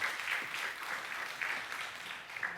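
Congregation clapping during a Sunday church service, continuous applause from many hands with a steady, dense patter that rises and falls slightly across the whole stretch, with no voices standing out.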